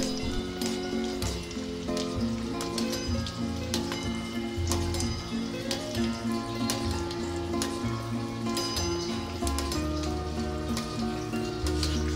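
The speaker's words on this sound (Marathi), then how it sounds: "छान सोनेरी रंगावर या कचोऱ्या तळून घ्या।" Kachoris deep-frying in hot oil for a Maharashtrian fasting recipe, a steady dense sizzle and crackle that runs loud and unbroken throughout with no talk.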